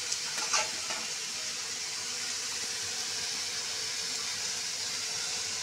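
Carrots, beans, tomato and capsicum frying in a pan with a little salt, giving a steady, even sizzling hiss with a faint stir near the start.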